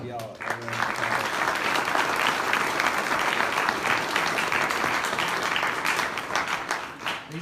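Sustained crowd applause at a 2017 Haleyville Lions football banquet, honoring two volunteers David Albright and Kyle Russell; dense, steady clapping fills the room for several seconds with murmured voices underneath.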